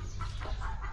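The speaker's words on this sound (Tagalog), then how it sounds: "breeder nga manok" A breeder chicken in a backyard gives a brief, close run of soft clucks against a low background hum.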